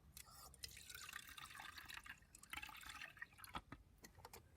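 Water poured back into a pot during a craft project, a soft trickling and dripping splash at close range, fairly faint and uneven, with a few louder drips near the end.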